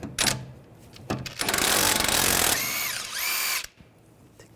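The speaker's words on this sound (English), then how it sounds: "With a 17mm socket, take the jam nut off." A power tool fitted with a 17mm socket spins off the jam nut on a front inner tie rod of a 2011-2017 Nissan Juke, sounding as several loud, close whirring bursts that rise in a sustained drive before cutting off.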